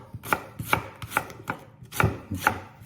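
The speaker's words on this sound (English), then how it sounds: "I'm going to then just slice this onion" A kitchen knife slices through an onion on a chopping board in six evenly spaced, crisp cuts about half a second apart, close and clear with no talking.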